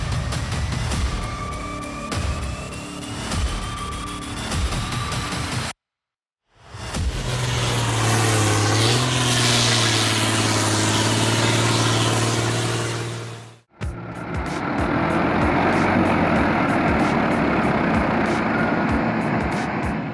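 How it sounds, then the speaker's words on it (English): A loaded logging truck stuck on a muddy forest road roars with a heavy, droning engine that holds a steady low note, in segments broken by abrupt cuts, loud and close. "The engine is roaring, yet this beast doesn't budge an inch."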